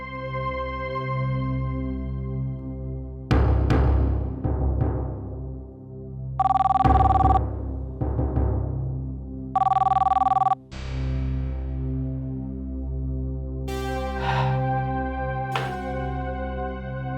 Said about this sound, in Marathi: फोन कसा कोणी उचलत नाही?